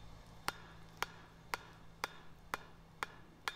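Hot steel is hammered on an anvil while forging a fire poker, seven sharp evenly spaced ringing blows about half a second apart, clear and fairly close over a low background hum.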